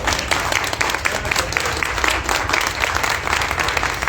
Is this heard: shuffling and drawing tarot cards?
no